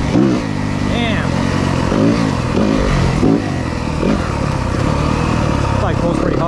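A 2023 Yamaha 250FX dirt bike engine rising and falling through repeated revs and gear pulls, loud and close with a raspy, busy tone, clattering and rattling alongside.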